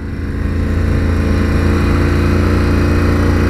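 A 2019 Ducati Scrambler 1100 motorcycle engine runs steadily at a low, throbbing idle, close and loud, with no voices.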